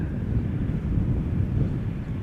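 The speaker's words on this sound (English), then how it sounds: "Wind is picking up" Wind blowing across an outdoor spot at Amsterdam Schiphol Airport, a steady low rumble and buffeting roar that holds at an even level throughout, with no voices.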